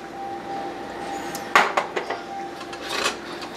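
Garlic being stirred into oyster sauce in a pot, heard as a few clinks and taps of a utensil against the pot around the middle, with a quiet background and little sizzling.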